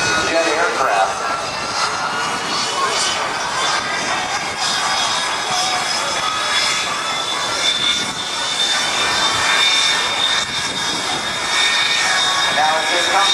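L-39 Albatross jets roaring past at a naval air station airshow, a loud sustained jet whine that swells and fades as they pass, with an announcer talking over it.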